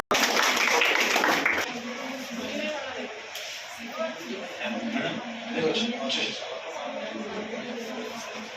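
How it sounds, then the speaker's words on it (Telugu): An audience at an Independence Day celebration claps in a dense burst that is loudest at first and then continues more softly beneath a speaking voice. "క్లాప్స్."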